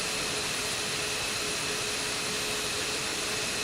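An F-15E Strike Eagle jet engine in DCS World, spooling up as a steady, loud, broadband whine and roar with thin high tones, alone with no talk.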